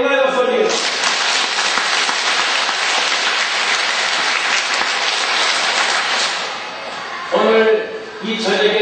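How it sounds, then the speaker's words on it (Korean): A church congregation in Busan claps in sustained, dense applause for several seconds; it fades, then a short burst of speech follows near the end. "우리 하나님께 영광의 박수 올리겠습니다."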